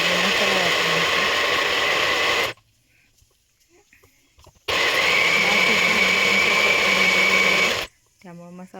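A kitchen mixer grinder whirs loudly as it grinds masala for a soybean bhaji, running in two long bursts with a short silent pause between them and a brief voice at the end.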